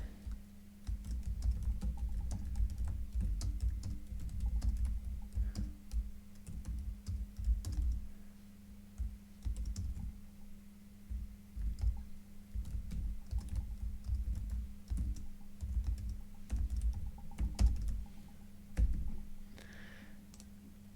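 Computer keyboard typing while an email reply is written in Zoho Mail: irregular bursts of quick clicking keystrokes, close and steady, with short pauses between runs and no talking.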